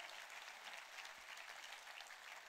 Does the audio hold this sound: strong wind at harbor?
no